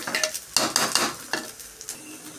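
Rice fries with spices in a pressure cooker for khichuri as a spoon stirs it, producing close scraping and rustling strokes over a soft sizzle. Several distinct stirs come in quick succession and then taper off.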